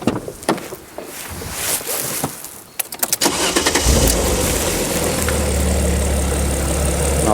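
Alfa Romeo 147 GTA V6 engine cranking and catching at close range, clicking and rustling first, then a burst into a steady, loud, rumbling idle that continues evenly to the end.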